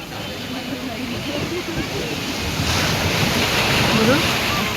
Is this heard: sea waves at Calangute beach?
yes